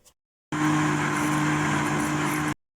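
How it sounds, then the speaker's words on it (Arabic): A loud, steady motorized whir of a blender mixing orange cake batter runs for about two seconds, then cuts off abruptly. "نضرب بقى دول في الخلاط"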